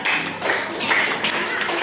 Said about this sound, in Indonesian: berikan tepuk tangannya